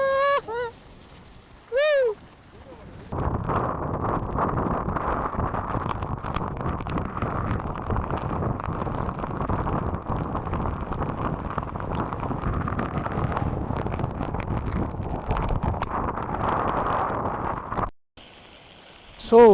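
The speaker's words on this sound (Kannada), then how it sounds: "ಸೊ ಮಸ್ತ್ ಗಾಳಿ ಮಳೆ ಬಂದು ಈ ರೀತಿ ಇದೆ ಎಕ್ಸ್ಪೀರಿಯನ್ಸ್ ಇವಾಗ" Strong wind and rain roar steadily through a forest trek near Mudbidri, a loud continuous rushing that cuts in after a brief voice and stops abruptly near the end.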